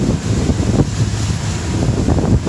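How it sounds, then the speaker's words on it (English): Twin 200 hp V6 Mercury outboards push an Eastward 2400 Seaward boat, a steady close low-pitched engine roar blended with wind buffeting and water rush, with no pause throughout. "This is an Eastward SEAWARD with twin 200 V6 Mercuries."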